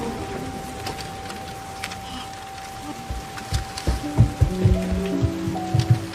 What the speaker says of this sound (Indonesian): di luar sedang terjadi hujan badai